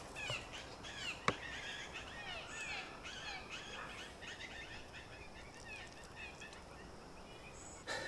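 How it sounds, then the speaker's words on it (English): Birds and squirrels squabble at a campsite, giving faint, repeated scratchy chattering and cawing calls in quick irregular bursts over a quiet outdoor background. "Oh, the birds and the squirrels are fighting today."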